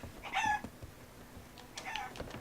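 Chickens in the Sea of Thieves video game giving two short bursts of clucking and squawking, close and fairly faint, separated by a brief pause.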